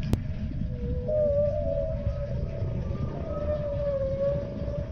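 Low, wavering tonal whale-like calls from a sperm whale in the game Feed and Grow: Fish drone over a rumbling background, with a brief click at the start.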